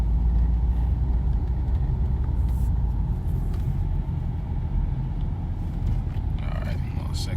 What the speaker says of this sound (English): Let me bend through this traffic.